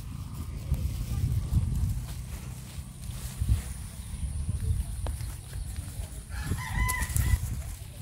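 Chickens cluck and a rooster crows at a rural Filipino home, the fowl sounds mixed into steady low background noise with people talking nearby.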